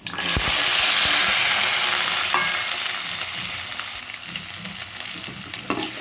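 Shallots sizzle in hot oil with mustard seeds and cloves in a pan, a steady close frying hiss with occasional stirring clinks and no talk.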